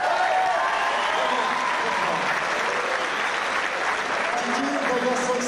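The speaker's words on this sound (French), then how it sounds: "Vous pouvez nous applaudir." Audience at a full contact American boxing exhibition applauds loudly and continuously, a thick, steady roar of clapping from a large crowd with murmured voices mixed in.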